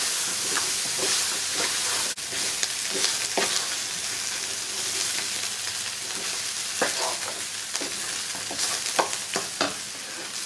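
Drained pork chop pieces stir-fry in a hot pan, a loud continuous sizzle and hiss with scattered scraping and stirring clatters close by.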